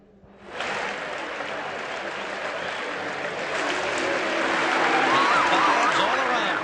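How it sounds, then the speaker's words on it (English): Baseball fans in the Omaha stadium break into a sustained round of applause at a 1995 Tennessee–Clemson game, starting abruptly and swelling louder toward the end as a broad crowd wash. "a nice round of applause from the fans here in Omaha"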